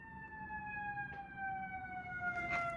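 An ambulance siren sweeps past in steady, sustained wailing tones over low road rumble, rising and falling slightly as it passes nearby.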